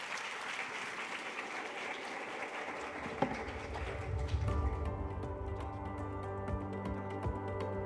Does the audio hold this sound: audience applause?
yes